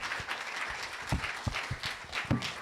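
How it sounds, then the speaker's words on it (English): An audience applauds panelists at a travel-technology panel event in a venue, a steady broadband patter of many hands clapping, moderately loud with a few sharper nearby claps standing out over the spread of the crowd. "a big round of applause for John and Abby"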